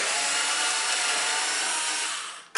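Hitachi cordless driver drill running steadily at high speed as it backs out a long, rusty fender bolt more than ten years old, a close, continuous whine that winds down near the end before a brief click.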